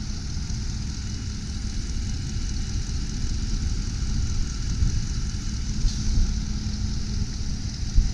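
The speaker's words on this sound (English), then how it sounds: "Engine's quiet," A 2005 Jeep Grand Cherokee Limited 4WD engine idles quietly and smoothly, a low steady hum with a faint constant whine above it, heard close and without talking.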